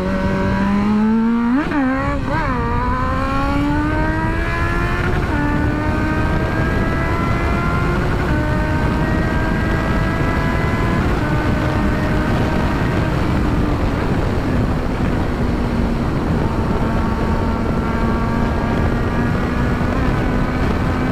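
A Honda CB 1000R motorcycle engine revs and pulls hard under acceleration while riding, a loud continuous drone whose pitch rises, dips and settles with gear changes.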